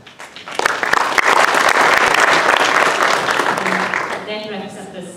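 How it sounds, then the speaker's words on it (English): A crowd's applause for panelists at a school education session swells quickly and holds as steady, dense clapping, then tapers while a voice begins speaking near the end. "a big round of applause for our panelists"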